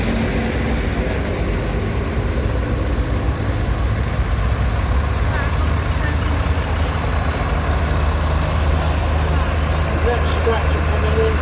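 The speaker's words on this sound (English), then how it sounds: "Next tractor coming in." A vintage tractor, such as a County 4004 62 horsepower, drives into the show ring at Christow Show: a steady, loud engine drone runs throughout with a faint high whine, heard outdoors beneath crowd and announcer noise.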